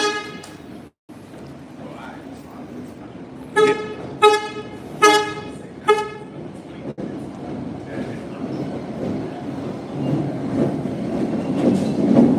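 An MBTA Red Line subway train at a station sounds several short horn toots in a row, then a rising rumble of the train moving along the platform, with an announcement voice and people talking nearby.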